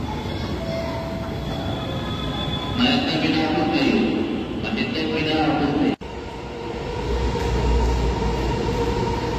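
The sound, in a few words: Kolkata Green Line metro train arriving at Sector V station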